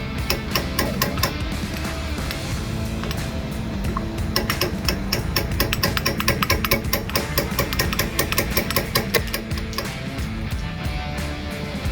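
A ratchet turns a socket on the motor of a cooling tower, a rapid run of clicks repeating in close, busy bursts over a loud, constant mechanical background with no voices.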